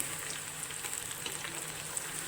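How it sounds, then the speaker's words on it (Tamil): Fresh curry leaves fry in hot oil for chicken 65, a faint, even crackling sizzle with tiny popping bursts that keeps going steadily without any talking. "நல்லா ஃப்ரெஷ்ஷான கருவேப்பிலை இருந்தால் அப்படி போட்டுருங்க போட்டு அதையும் அப்படியே பொரிய விட்டு எடுத்துருங்க"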